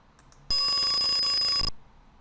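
An Arduino simulation sounds a buzzer set to a 5000 Hz tone: one steady, shrill electronic beep of a little over a second, starting abruptly and cutting off cleanly, loud against near silence.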